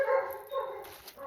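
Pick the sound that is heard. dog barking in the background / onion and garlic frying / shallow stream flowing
dog barking in the background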